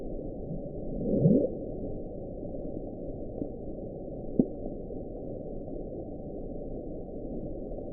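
Bloop, a mysterious low underwater sound sped up sixteen times, heard as a faint upward-sweeping tone around one second amid steady noisy bubbling, with a brief sharp blip later; muffled, band-limited, no voices.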